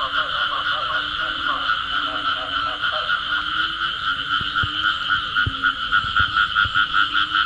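Many frogs croak in a wet field at the start of the rainy season, forming a dense, loud, continuous chorus with pulsing calls close by.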